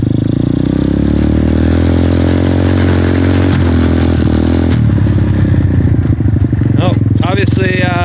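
A pit trike engine with the clutch let out slowly, in first gear, runs loud and steady throughout as the trike rolls, the note shifting partway through.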